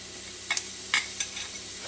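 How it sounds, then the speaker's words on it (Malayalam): Cumin seeds crackling in hot ghee in a pan for dal tadka, a few sharp pops and spits scattered over a soft background sizzle, close and fairly quiet. "നമ്മളുടെ ജീരകം ഇവിടെ പൊട്ടി വന്നിട്ടുണ്ട്"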